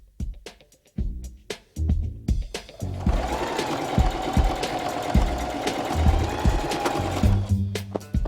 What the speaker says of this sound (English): And now we're just going to sew the hole closed.